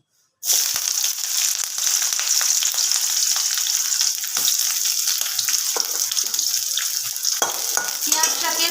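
Chopped onion dropped into hot mustard oil in a pan, bursting into a loud, close, continuous frying sizzle that carries on steadily after a moment of silence, with a few scrapes and no talking.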